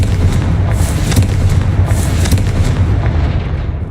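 A Confringo blast spell is cast in the Hogwarts Legacy video game: a loud, dense fiery roar with sharp bursting crackles, sustained for several seconds at close range with no talk.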